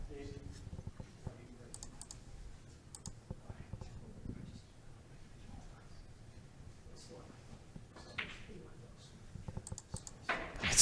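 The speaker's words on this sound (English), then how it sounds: "It's so quiet, you can hear the mouse clicking pretty loud." Faint, sparse computer mouse clicks come through a very quiet room during an Alberta snooker championship match, scattered as isolated ticks, with soft talk and low movement in the background.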